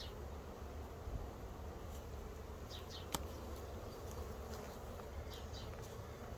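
Honey bee swarm humming steadily inside a swarm trap, a dense continuous buzz close by with individual bees flying past now and then and one sharp knock midway.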